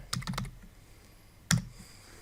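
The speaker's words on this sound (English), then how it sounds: "I'm going to type in Adobe Bridge." Brief typing on a computer keyboard: a quick cluster of key clicks, a short pause, then one sharper keystroke, close and fairly quiet in a calm room.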